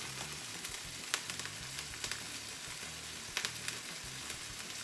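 Burger patties topped with cheese fry in a frying pan, a steady close sizzle and crackle punctuated by a few sharp spatula taps and scrapes, without speech.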